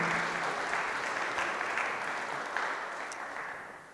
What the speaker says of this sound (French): Il faut l'applaudir